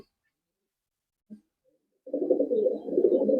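Murshidabadi Teddy cross pigeons make a close, soft, throaty cooing that starts after a near-silent pause and one faint bump, then continues as a steady low rolling call to the end.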